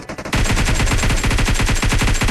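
Automatic gunfire in the mobile battle royale game PUBG Mobile rattles off as a loud, rapid, evenly spaced burst after a few scattered shots, continuing steadily to the end with no talk.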